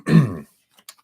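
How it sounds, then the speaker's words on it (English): A single short, rough throat clearing close to the mic, followed by a couple of faint clicks. "So I apologize for clearing my throat so much."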